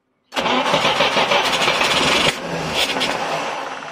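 A UAZ 452 fitted with an SU carburettor cranks briefly and fires up, its engine catching and settling into a loud, close rough idle.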